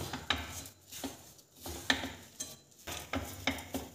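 Flour being stirred into masala pitha batter in a bowl: repeated scraping, rubbing strokes of a spoon against the bowl in an uneven rhythm, close and fairly quiet, with no talking.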